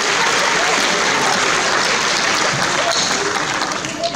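At the prize ceremony of the French youth chess championship in Agen, 2018, an audience gives sustained, thick applause that holds at full strength before easing slightly at the end.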